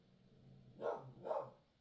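A dog barks twice in a row during mail delivery time, two moderately loud, mid-distance barks about half a second apart over a quiet room.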